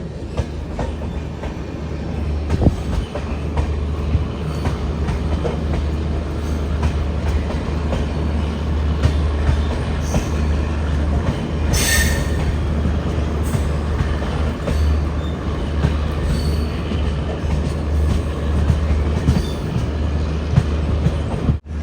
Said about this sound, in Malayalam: ബദർപൂരിൽ നിന്നും 70 കിലോമീറ്റർ യാത്ര ചെയ്ത് ട്രെയിൻ ഇതാ ന്യൂ ഹഫ്ലോങ് റെയിൽവേ സ്റ്റേഷനിലേക്ക് എത്തിക്കൊണ്ടിരിക്കുകയാണ്.